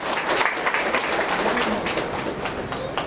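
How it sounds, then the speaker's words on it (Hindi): A church congregation breaks into steady applause, many hands clapping together in a dense, continuous patter that fills the room, with a few voices mixed faintly underneath. "ताली बजा दीजिए राजकुमार के।"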